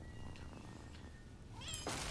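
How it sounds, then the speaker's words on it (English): A cat in the video game Rise of the Ronin gives a short meow near the end, loud and close, following quiet background ambience. "Come here, kitty."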